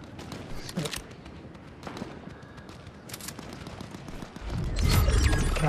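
Rapid bursts of video game gunfire crackle repeatedly, growing denser and louder toward the end with heavy booming impacts.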